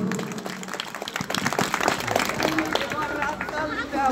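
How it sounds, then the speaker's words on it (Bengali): Audience at a badminton tournament prize-giving ceremony applauding, a dense sustained wash of clapping from many hands with crowd murmur mixed in, steady and fairly loud throughout. "সকলে করতালি"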